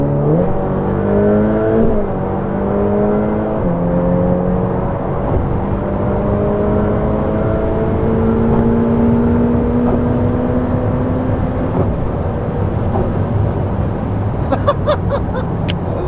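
A Ferrari F8 Tributo revs hard as it accelerates, its loud engine note climbing through rising gear sweeps and shifting steadily for most of the stretch, with a few sharp clicks near the end.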